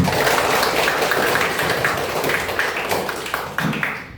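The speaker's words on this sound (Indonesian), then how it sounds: "tepuk tangan untuk kita semua." Classroom applause from a group of students, a dense steady patter of many hands clapping throughout at fairly close range, with no voices heard over it.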